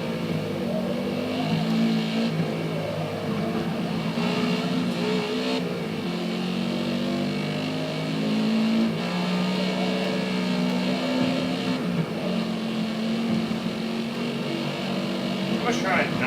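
A race car engine holds full throttle in Forza Motorsport, a continuous loud droning roar with shifting pitch as the car runs flat out, while someone talks over it throughout.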